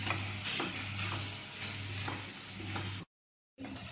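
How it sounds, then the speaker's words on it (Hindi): Onions fry in a pan in a light-oil chicken stew recipe, giving a steady, soft sizzle with faint stirring ticks that cuts out briefly near the end. "अब ये प्याज हम ब्राउन होने तक इसमें तलेंगे।"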